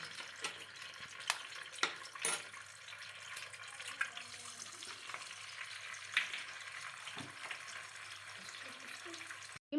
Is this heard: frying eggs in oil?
yes